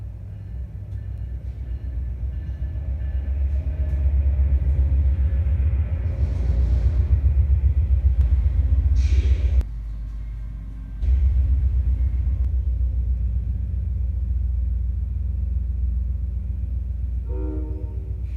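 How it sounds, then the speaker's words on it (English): An Amtrak Wolverine passenger train from Pontiac, a consist of about five cars including a cafe car, arrives at the Troy, Michigan station with a loud, steady low rumble of engine and wheels, briefly dipping and then resuming. "Here's the arrival of one of the trains. This coming from Pontiac, train 353."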